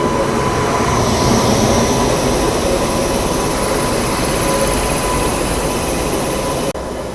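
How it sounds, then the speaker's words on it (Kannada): A passing train hauled by Hubli loco shed's new locomotive Mera Bharat gives a loud, steady broadband roar of wheels and engine at close range that holds without a break, then drops off abruptly near the end. "ಹುಬ್ಳಿ ಲೋಕೋ ಶೆಡ್ದ ಹೊಸ ಲೋಕೋಮೋಟಿವ್ ನೋಡ್ರಿ ಇದು, ಮೇರಾ ಭಾರತ್ ಅಂತ ಹೇಳಿ ಇದ್ರ ಹೆಸರು"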